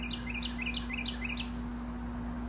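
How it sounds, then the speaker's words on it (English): Birds chirping outdoors at a home on a sunny afternoon: a run of short, bright, repeated chirps in quick succession, moderately near, over a steady low electrical hum. "just all sorts of birds chirping"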